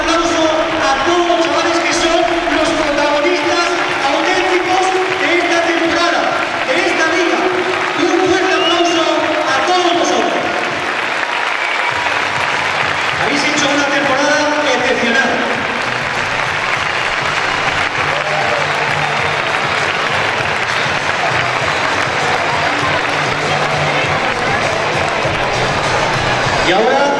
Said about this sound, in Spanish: ahora le damos todos los padres un aplauso a todos